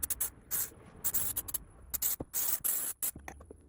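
Short bursts of aerosol spray hit a shoe as it is coated with water and stain repellent, each hiss brief and close, with pauses and faint handling noises between them.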